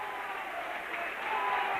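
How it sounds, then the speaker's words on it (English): A crowd at a rugby league match between Featherstone Rovers and Wigan applauds and cheers in a dense, steady roar heard from within the stand, swelling slightly toward the end. "Listen to the crowd."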